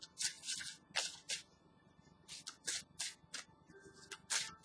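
Tarot cards shuffled close by in a quiet room, a series of soft, papery riffles and slides in irregular bursts, with no talk over them.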